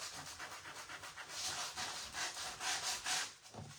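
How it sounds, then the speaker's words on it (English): Regular sandpaper rubs over a paper card in quick, close back-and-forth strokes, a steady scratchy hiss that swells and fades with each pass. "So you can use just regular sandpaper"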